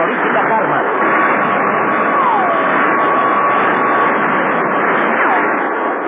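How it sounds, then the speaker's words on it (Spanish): Supersonic jet planes roar as a radio drama sound effect, a loud unbroken band-limited engine wash with faint whistling sweeps, played under a narrator speaking throughout. "Los aviones supersónicos trataron de alejarse del punto de ataque del platillo volador"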